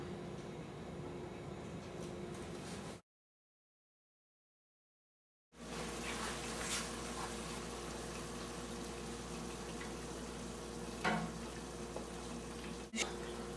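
Beef sizzling in a pan as the heat comes back on, a continuous soft crackle that cuts out for a few seconds and returns steady, with occasional small pops.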